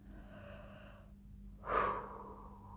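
A single deep breath during a guided meditation, drawn in and let out softly in a quiet setting, stands alone after a near-silent pause.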